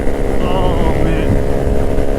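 A 2022 Honda Grom small motorcycle drones steadily at speed with heavy wind rush, while a rider's voice talks over the engine throughout.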